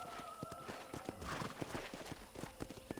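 Hooves clip-clop in a steady trot in the video game Red Dead Redemption, and a horse whinnies briefly partway through, all fairly quiet against a soft ambient background.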